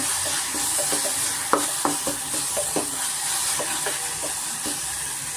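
Mashed tomato fries in oil in a pan, a steady sizzle and hiss broken by repeated scraping knocks of a spoon as it is stirred.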